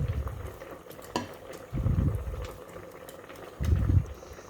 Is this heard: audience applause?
no